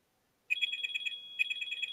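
A telephone ringtone chirps in two quick pulsing bursts near the mic, each a rapid string of bright electronic trills, with a short break between them and no talking over it.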